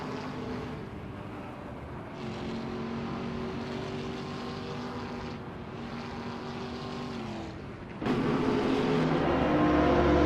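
GT3 race cars at Maple Valley in a racing video game, including a V10 Dodge Viper SRT GTR3, roar with a steady, droning engine note and rising harmonics, then jump louder and more intense near the end.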